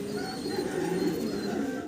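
White homing pigeons coo at a pigeon farm, several soft overlapping throaty calls going on steadily, close by and moderately loud, with no one talking.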